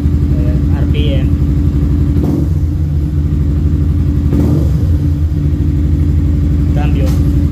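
A Yamaha Sniper 155 motorcycle engine idles close and loud, then revs in several sharp bursts that rise and fall back to idle, with someone talking over it.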